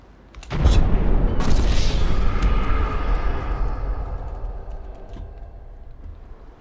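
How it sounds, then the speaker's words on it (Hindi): A bomb blast in a prank bomb-walking game: one loud, sudden boom with no lead-in, then a long rolling rumble that fades slowly over several seconds. "चलिए शुरू करते हैं असली बम धमाका।"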